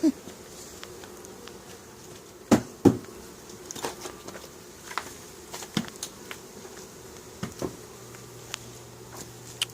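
Insects buzz faintly around three beehives outdoors, a thin continuous drone broken by a few brief nearby taps and knocks, with no talking.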